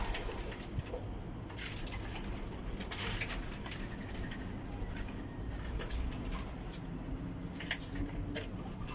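Doves cooing, turtle doves kept by a keeper, with soft repeated calls set against a constant background hiss and occasional rustling bursts.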